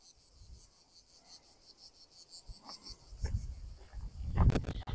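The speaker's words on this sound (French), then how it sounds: "Et le petit grillon, tiens." A small cricket chirps outdoors in a steady high pulsing trill, faint and distant, while low rustling and handling noises swell near the end.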